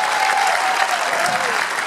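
An audience at a concert applauds warmly, a loud dense wash of clapping that runs steadily the whole time with crowd murmur mixed in.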